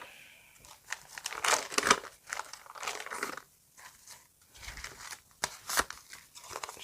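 Crinkly paper packet rustles and tears in close, irregular bursts, loud crackling handling noises with short pauses between.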